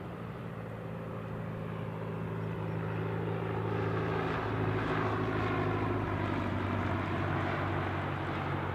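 A small light aircraft passes near Newcastle airport, its propeller drone slowly rising to a broad, steady hum mid-pass and holding there without any talk.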